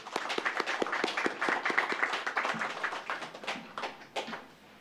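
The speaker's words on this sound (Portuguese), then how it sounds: "Vamos aplaudir o Senhor Jesus?" Members of a church congregation clap for Jesus in a Portuguese-language service, a close, lively burst of individual hand claps that start in loose rhythm, thicken into applause, then thin out and stop.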